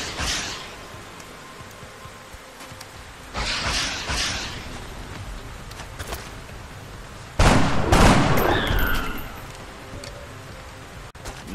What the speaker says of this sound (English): Get ready to fire.